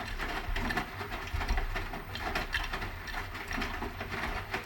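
A Hotpoint HE7L492 washing machine drum tumbling slowly at 50 RPM on a cotton standard wash, giving a steady close churning and rumbling with soft rhythmic swishes and clunks.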